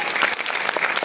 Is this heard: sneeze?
no